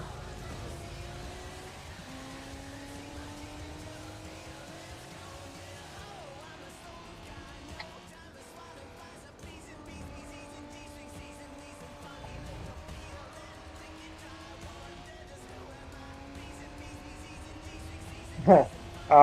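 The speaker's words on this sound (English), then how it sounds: "The R32 engine, I mean the R34 engine was one of the sounds reworked for this mod. Like you can hear it and hear how much better it is." Nissan Skyline R34 engine from the Gran Turismo 4 Spec II mod, revving steadily through repeated gear-change sweeps with a rising whine, fairly loud and continuous, ending with a sharp burst.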